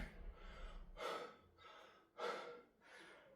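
A man breathes heavily after a strong-legs exercise routine, drawing short of breath with several loud, rhythmic gasping inhales and exhales, close up, with no speech.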